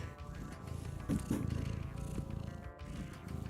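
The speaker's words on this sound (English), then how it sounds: "You little purr machine." A pet cat named Luna purrs in a low, steady rumble right against the microphone, with a brief rustle as she nuzzles it and no talk during the purring.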